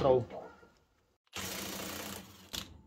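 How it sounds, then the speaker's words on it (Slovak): A Parkside Performance PASSP 20 cordless impact wrench loosens bolts torqued to 400 Nm, giving a loud dense rattling burst of about a second after a pause, then a shorter second burst, close by. "Teraz tie skrutky vyskúšame povoliť, je na nich 400 Nm"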